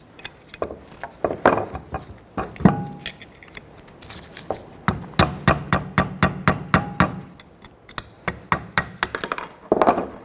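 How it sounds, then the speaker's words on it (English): A hammer taps a hub and bearing assembly on a 1992-1996 Toyota Camry, sharp clinking strikes in irregular bursts, close and fairly loud, with brief pauses between runs of blows. "you can use a hammer and just kind of tap this"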